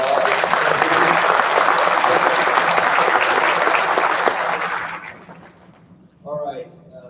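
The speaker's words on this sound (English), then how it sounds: "Let's give them a round of applause." A graduation audience applauds former DMACC graduates with full, dense clapping that holds strong for about five seconds, then thins and fades before a voice begins speaking.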